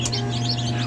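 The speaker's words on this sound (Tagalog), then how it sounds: "bagong hatch na mga sisiw, oh." Newly hatched chicks peep in a quick run of high, thin chirps over a low steady hum, close by and brief, with no talking.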